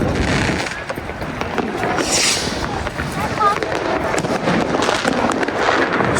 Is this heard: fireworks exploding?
yes